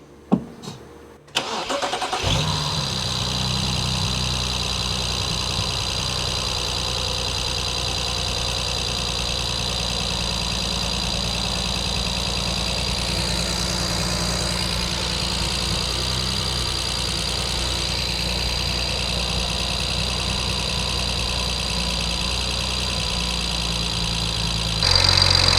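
A BMW N-series petrol engine with leaking injectors cranks and catches after a short burst, then settles into a long, steady idle with a constant mid-pitched hum and a slight rise near the end.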